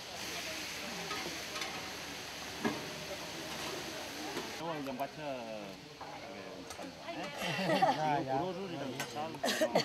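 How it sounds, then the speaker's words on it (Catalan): Chicken pieces frying and being stirred in a large paella pan outdoors at a town festival: steady sizzling with scraping stirs, under busy crowd chatter and nearby voices throughout. "Alguns remenaven la paella, que ja fregia els trossos de pollastre"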